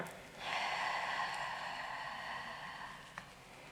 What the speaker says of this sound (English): if you could take a big deep breath in for me and out